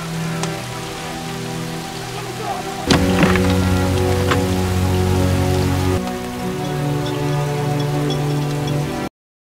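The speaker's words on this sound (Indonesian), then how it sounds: "pagi dini hari hujan deras melanda wilayah tersebut" Heavy early-morning rain pours in a dense, steady hiss of drops on surfaces. It continues unbroken for several seconds alongside a low sustained tonal background.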